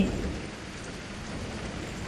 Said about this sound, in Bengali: বৃষ্টিটা থামলেই বেরোবে কিন্তু থামা তো দূরের কথা আরও যেন জাঁকিয়ে বসেছে